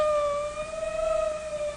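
An ambulance siren sounds alone in a loud, close, sustained wail whose pitch climbs slightly over the stretch.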